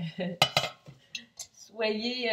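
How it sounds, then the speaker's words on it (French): Metal lid set onto a cooking pot in a home kitchen, giving a couple of sharp clanks followed by a short resonant ring, close and clear with no talk over it. "Et pendant le prochain 40 minutes de cuisson, on va mettre un couvercle."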